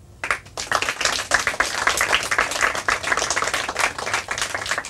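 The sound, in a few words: audience applause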